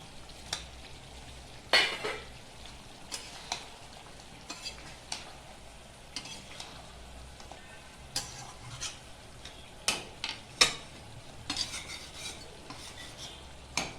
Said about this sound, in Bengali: এখন আলু ভাজা আলুগুলো দিয়ে দেবো।